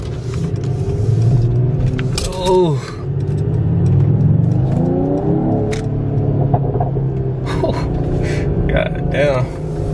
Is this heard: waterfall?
no